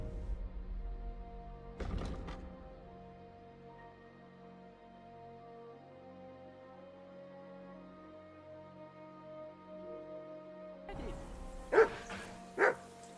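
Dog barking in the video game Kingdom Come: Deliverance II: one sharp bark early, then quiet game ambience, then a cluster of loud barks near the end, close and distinct.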